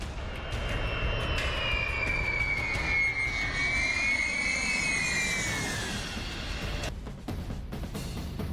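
B-52 bomber jet engines roar loud and steady with a broad rumbling wash and a wavering high whine, fading slightly near the end, with no voices.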